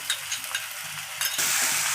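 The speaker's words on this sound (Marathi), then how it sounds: "हे चांगलं आपल्याला तेल सुटेपर्यंत भाजायचं आहे कच्चा कांदा नाही लागला पाहिजे" Onion, ginger and garlic paste fries in oil for a spinach and soybean dish, giving a steady close sizzle with light stirring scrapes that swells much louder partway through; nobody speaks.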